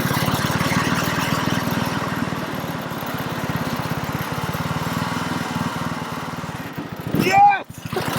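A lawn tractor's small engine runs hard with a steady, loud, rapid thrumming while the front wheels lift in a wheelie, ending in a sharp surge and sputter.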